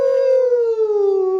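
A person imitates a wolf howl with one long, loud, steady tone that slides gently downward, close and clear with no other sounds.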